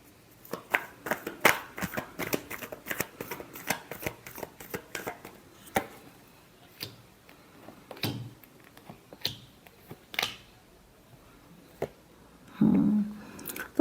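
A deck of tarot cards is shuffled close up, first as a rapid run of crisp riffles and slaps, then as sparser taps and soft shuffles with quiet gaps between them.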